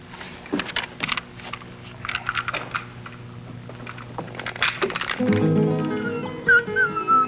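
A dog whimpers and yips in short bursts, with clicking and tapping sounds around it and a higher whining note near the end.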